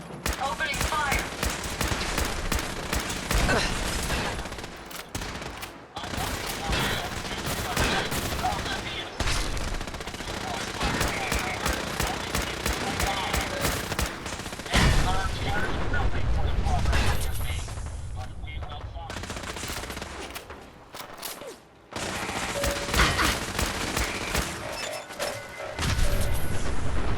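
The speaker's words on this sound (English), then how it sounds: "Opening fire!" Dense gunfire in the video game Fallout 4, with rapid machine-gun bursts, single shots and occasional booms running almost without pause, while voices talk over the fighting.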